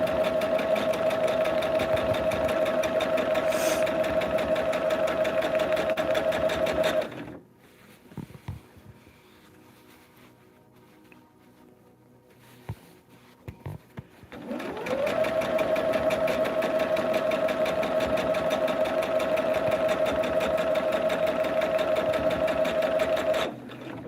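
A sewing machine runs steadily on a 42-inch blended fan quilt with a bright, even whir. It stops for several seconds of near quiet with faint handling sounds, then starts again and runs to the end. No one speaks.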